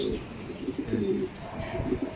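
Racing pigeons cooing in low, soft repeated calls, close by, with a brief higher chirp partway through and no talking.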